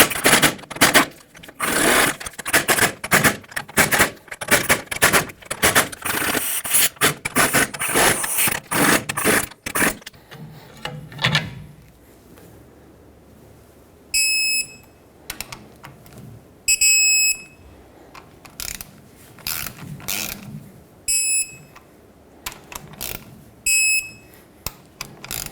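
A wrench loosens and torques the hub bolts on a 2011-2016 Ford F-350 rear hub held by a pry bar. Rapid ratcheting clicks come first, then short bursts of ratchet clicks with high beeping tones from a torque wrench.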